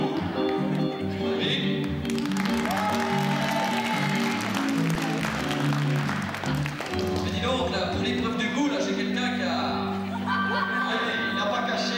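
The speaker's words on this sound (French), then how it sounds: "On peut applaudir très fort" An audience applauds in a 1985 French television studio, with a dense patter of clapping over a musical backing and a voice speaking.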